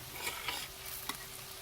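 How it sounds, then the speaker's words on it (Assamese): Coriander powder frying in a pan gives a soft, even sizzle, fairly faint, with a couple of light stirring taps over the hiss. "এইখিনি ভালদৰে ভাজি লৈ"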